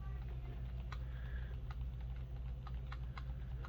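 Game Boy Advance buttons are pressed in a few soft, sparse clicks over a low steady hum, faint and close.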